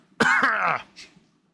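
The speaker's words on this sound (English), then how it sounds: "I had a cough in there and I had to keep it under control" A single harsh cough, close and loud, sounds with a throaty rasp, followed by a softer breathy exhale.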